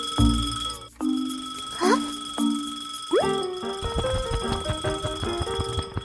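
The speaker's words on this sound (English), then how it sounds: "Suddenly, the clock starts ringing loudly." A cartoon alarm clock on a table goes off loudly, sounding as a series of bright electronic rings and boing-like tones, then a busy run of chiming notes.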